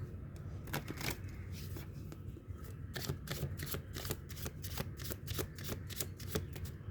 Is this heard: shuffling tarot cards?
yes